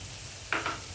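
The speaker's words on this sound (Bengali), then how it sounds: "আমি ডিমটা দিয়ে দিব এখন" An egg fries in a pan with a faint steady sizzle, broken by two brief brighter crackles close together near the end.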